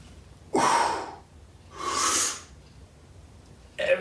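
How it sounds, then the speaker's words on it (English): Sharp, forceful breaths taken to brace the core during a barbell push press: two loud, hissing breath bursts about a second apart, then the start of a third at the very end, each standing alone. "with breathing, it's obviously a breath in to brace your core"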